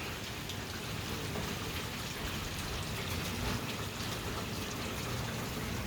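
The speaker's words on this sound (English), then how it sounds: "It's good clean rain out of the ocean." Steady rain from a Hurricane Dorian feeder band falling near Boynton Beach, a dense, even hiss of drops on surfaces that holds constant throughout, moderately loud and close, with no talking.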